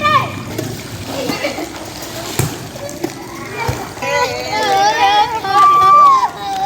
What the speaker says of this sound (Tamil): பூங்காவில் தேங்கிய மழை நீரில் நண்பர்களுடன் ஆட்டம் போட்ட சிறுவர்கள்